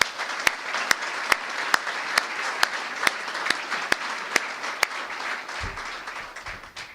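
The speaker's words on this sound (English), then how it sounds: "Please give them a big round of applause." Applause at a student-athlete awards banquet, a crowd clapping steadily with a few sharp, louder claps standing out near the microphone, tapering off toward the end.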